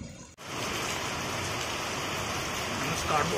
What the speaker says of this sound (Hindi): राजस्थान के जोधपुर में बहुत भयंकर बारिश आ गई है